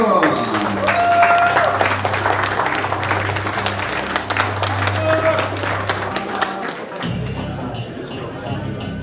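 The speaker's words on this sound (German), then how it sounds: "Ein Applaus für Matto" A crowd at a youth kickboxing event in Germany applauds a young fighter, loud and continuous with a low hum of amplified sound underneath, easing off toward the end.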